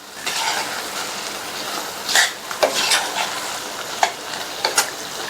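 Fried okra being stirred into an oily masala in a pan, with a few sharp clinks of a utensil against the metal over a soft background sizzle, close and moderately loud, no voices.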